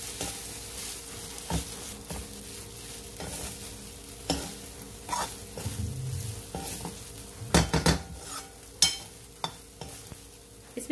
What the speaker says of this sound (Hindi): इन चावलों को हम इस मसाले में अच्छे से मिक्स कर लेंगे